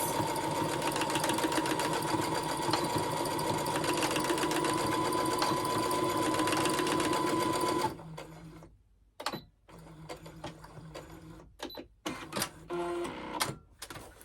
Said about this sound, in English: I will just bring the sewing machine in actually